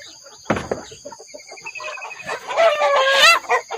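Chickens cluck and a rooster crows inside a crowded coop, with the calls building into a dense, overlapping chorus near the mic toward the end.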